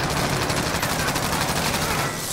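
Rapid video-game gunfire, dense bursts of shots crackling in quick succession, loud and close, continuing without pause across the whole moment.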